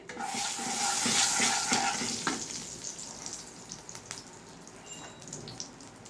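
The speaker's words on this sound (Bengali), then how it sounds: "সামান্য পরিমাণ একটু হলুদ সামান্য পরিমাণ একটু লবণ দিয়ে মশলাটা একটু ভেজে নিতে হবে" A spice mix with turmeric and salt fries in a pan for an aloo paneer curry, loud dense sizzling at first that fades to a softer crackle with a few utensil knocks, no voices.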